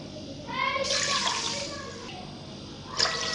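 About one and a half cups of water poured into a pot of sugar for jalebi syrup, a close splashing gush in two bursts, with a short voice heard just before it.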